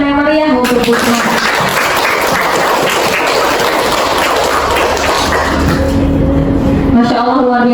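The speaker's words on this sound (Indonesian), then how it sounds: "Marilah kita beri tepuk tangan yang meriah untuk Bu Sumarni." Applause from an audience at a teachers' training session, a dense, loud burst of clapping through the middle of the stretch, with tonal sounds like a voice or music at the start and the end.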